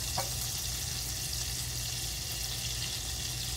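Finely chopped garlic fries in a hot pan, a steady, even hiss of sizzling oil close by, with no voices.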